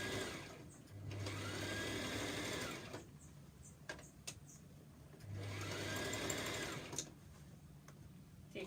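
A sewing machine stitches a seam on a fabric top in two sustained whirring runs, close and steady, separated by a pause with light clicks and handling noises.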